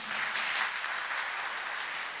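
An audience applauds at a public debate among Fukushima gubernatorial candidates, a steady wash of clapping sustained for the whole short stretch, with no voices over it.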